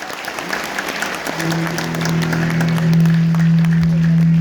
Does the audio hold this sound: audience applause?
yes